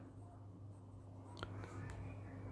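Numbers being written out while working a subtraction problem, soft pen strokes and scratches against a low steady hum, faint and close, no talk.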